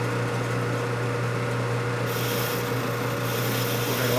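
A tool grinds a chamfer into a part from a 1972 Harley-Davidson 1000cc Ironhead Sportster engine. The scraping is steady and continuous over a low machine hum, and the pitch shifts slightly partway through.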